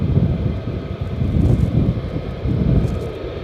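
Military jet at RAF Lakenheath, such as an F-15 Strike Eagle or F-35 Lightning II, roaring through a takeoff run, a loud, steady, low rumbling engine blast with wind buffeting and no voices.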